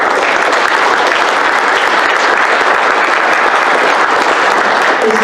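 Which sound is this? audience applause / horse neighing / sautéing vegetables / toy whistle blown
audience applause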